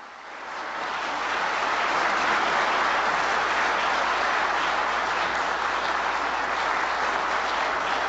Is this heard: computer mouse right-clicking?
no